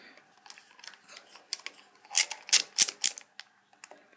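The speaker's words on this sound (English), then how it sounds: "you want to take your driver and start loosening them up" Screwdriver loosening the back bolts on a Nitrocat 1200K Aircat impact wrench during a rebuild, sparse metallic clicks and scrapes building to a cluster of sharp ratcheting clacks near the middle, close and dry.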